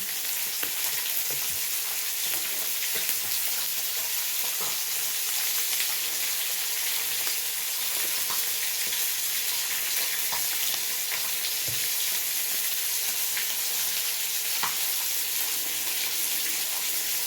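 Seashells (aninikad) simmer in salted, seasoned water in a pot, giving a steady bubbling, hissing boil that stays constant throughout with occasional small clinks and taps, no talking.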